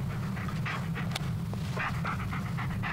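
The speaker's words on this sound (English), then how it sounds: "Yeah, good dog." A dog in the game Blairswitch pants steadily in quick, rhythmic breaths over a constant low background hum, close and clear, with no talking.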